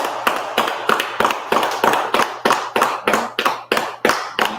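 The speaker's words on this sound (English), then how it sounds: "So again, clap it up for the sisters." An audience claps for the sisters at a Purim feast closing gathering, a steady run of about a dozen sharp, close hand claps in a brisk, even rhythm, with a faint low hum underneath.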